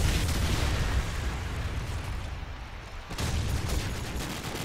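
A grenade blast in Call of Duty 4 rolls out as a loud, broad rumble with debris-like crackle, easing briefly before surging again, with no talking over it.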